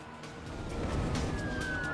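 An emergency alert siren wails over a steady rumbling background, a sustained rising tone that grows slightly louder across the short stretch.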